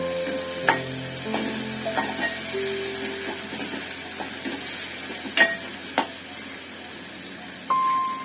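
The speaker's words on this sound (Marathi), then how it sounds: "बारीक करून घेतला कांदा टाकणार लालसर असा करून घ्यायचा कांदा" Chopped onion frying in a pan for a Marathi sukat dish: a steady low sizzle with scattered clinks and scrapes of a spoon stirring, and a few sharper knocks along the way.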